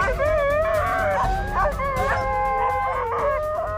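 Several dogs barking, yipping and howling together in a continuous, lively chorus, close and loud.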